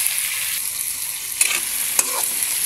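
Garlic, onion, ginger and tomato sautéing in a pan, a loud constant sizzle broken by two brief clinks of a utensil being stirred through it.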